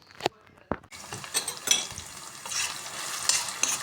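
Onions and tomato paste sauté in olive oil: sizzling in a pan with stirring scrapes and a couple of sharp clinks at the start, steady and close.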